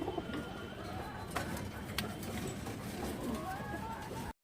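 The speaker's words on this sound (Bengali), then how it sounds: "খুবই চঞ্চল একটা মাদি কবুতর গিয়া মুসল্লম ফ্রেশ মাদি" A lively female Gia Musuldam pigeon coos softly amid other birds' background calls, with a few sharp knocks over a dense, steady din that cuts off abruptly.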